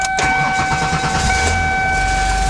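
A 1994 Lincoln Continental V6 with 112,000 miles cranks briefly, then catches and settles into a steady idle, loud and close, with a chime sounding over it.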